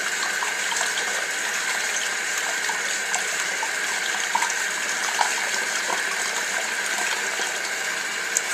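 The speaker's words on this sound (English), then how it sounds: "Squeeze all the water out." Tap water runs steadily into a sink as a makeup brush is rinsed, a constant close hiss and splash with small irregular flicks throughout and no voices.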